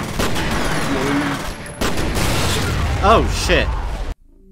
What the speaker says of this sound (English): He actually shot an explosive barrel right next to me.